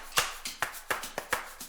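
A clap sample returns to an electronic track as it builds back up after a breakdown, with sharp, evenly spaced hits and a softer tap between each pair.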